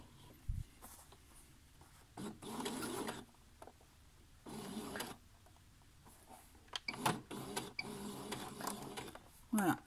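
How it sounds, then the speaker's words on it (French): A sewing machine runs in short bursts as it stitches a small backstitch on elastic smocking for a top, the mechanical whirring stopping and starting several times, close and fairly loud, with faint talk in the gaps. "je fais un petit point d'arrêt"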